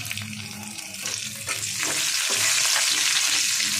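Finely chopped cashews and raisins frying in hot oil with ginger and green chilli, a steady sizzle that swells louder partway through as a spoon stirs and scrapes the pan.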